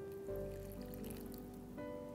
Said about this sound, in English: Mix well, add about half a cup of water.